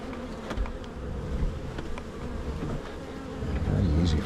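Honey bees buzz around an open hive in an east bee hut during a summer inspection, a dense, continuous droning swarm close by, with occasional louder bees passing near and no talking.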